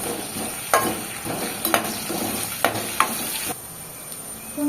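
Chopped garlic sizzles in hot oil left from frying noodles as a spoon stirs it, with a steady crackling hiss broken by several sharp scraping clinks against the pan, no voices.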